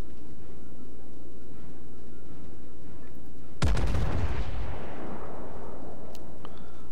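A single heavy boom of naval artillery from the Izumo battleship in World of Warships fires mid-clip, followed by a long rumbling decay over steady background noise.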